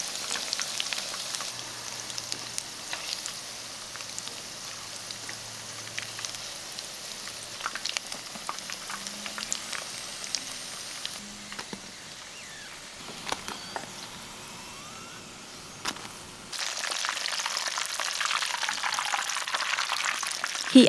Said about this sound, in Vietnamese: Mình chiên từ từ đến khi vàng đều hai mặt rồi vớt ra cho ráo dầu.